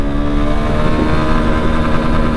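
A 2024 Honda SP160 motorcycle pulling hard in second gear on a traffic-filled road, its engine note holding a steady strained drone with harmonic whine, close and loud throughout, no talking.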